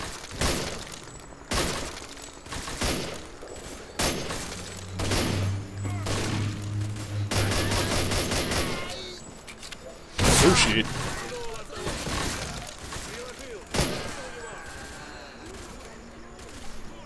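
Gunfire, including shotgun blasts, rings out in the shooter game S.T.A.L.K.E.R. Clear Sky: a string of sharp, loud shots and bursts at irregular intervals, with someone talking between them.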